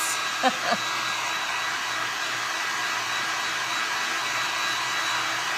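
A hair dryer blows steadily on a painted paintbrush to dry the paint, giving an even, continuous whooshing drone that stays constant from start to finish, with a couple of brief soft knocks near the beginning.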